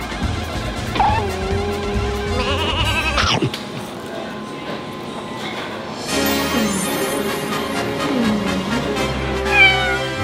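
A stray cat that often visits a studio meows several times in rising and falling cries, fairly close, over a busy background with other sounds and possible voices.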